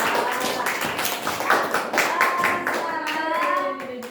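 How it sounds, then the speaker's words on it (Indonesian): A classroom of students claps for a group that has just finished presenting, a dense, steady burst of applause with a few voices rising over it near the end. "tepuk tangan dulu untuk kelompok 1"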